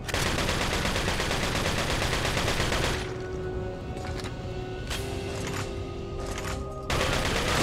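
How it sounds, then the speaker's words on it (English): Dense, sustained rapid gunfire from the Resident Evil 4 final fight against Osmund Saddler, loud continuous volleys with a quieter stretch of scattered shots and tones in the middle before heavy firing resumes. "Stop shooting me!"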